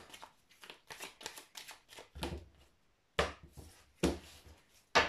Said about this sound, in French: Je brasse.